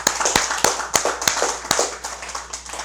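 Audience at a Korean Buddhist Wednesday dharma service clapping for a bodhisattva: a group applauding with several sharp, distinct claps standing out over a softer patter, fairly close and trailing off toward the end.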